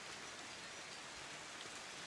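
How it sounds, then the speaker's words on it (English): Jungle rain sound effect plays as a steady, soft hiss of rainfall and pattering drops, continuous and faint, with no voices over it. "Oh, there's a jungle rain sound?"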